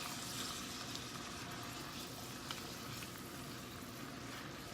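Half a pound of mushrooms sizzling in a pan, a steady dense crackle and hiss that holds evenly throughout without pause, close and moderately loud, with no talking.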